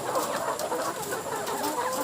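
Layer hens on a Philippine egg farm cluck continuously in a dense, close chorus of many birds with no pauses.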